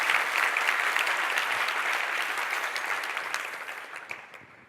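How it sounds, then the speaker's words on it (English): A large conference audience applauds at a keynote closing, dense sustained clapping that starts full and gradually thins and fades out over a few seconds. "give a huge round of applause to the people that came here to speak"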